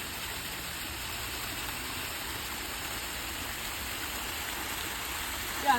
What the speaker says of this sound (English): Yeah, it's because there's multiple waterfalls.